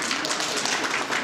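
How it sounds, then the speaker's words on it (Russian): Dense audience applause at the 10th Surikov festival concert, where pupils of a children's music school are introduced. Steady, even clapping fills the whole short moment with no pause. "Ваши аплодисменты"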